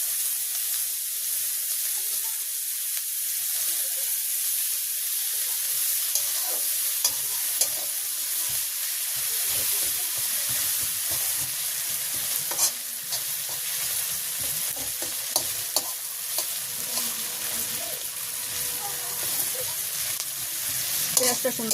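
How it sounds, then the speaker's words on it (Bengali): Sliced onion and green chillies fry steadily in hot oil in a village kitchen pan, a continuous sizzle broken by repeated scraping stirs, with no talking. "পেঁয়াজটা সুন্দর করে ভাজা হয়ে গেছে"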